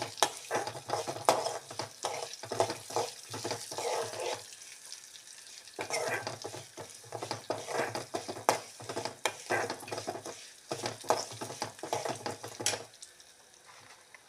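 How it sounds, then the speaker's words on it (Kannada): Half a teaspoon of mustard seeds sizzles and crackles in a pan for a coconut curry, with close, rhythmic scraping of a spoon as it is stirred, briefly pausing midway. "ಒಂದು ಅರ್ಧ ಟೀ ಸ್ಪೂನ್ ಸಾಸಿವೆ ಸ್ವಲ್ಪ ಡ್ರೈ ಆಗಬೇಕು ಇದು"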